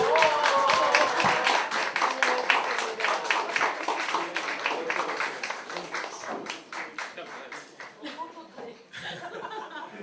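Crowd at a political rally claps in a dense burst that gradually thins out, with laughter and a voice speaking over it.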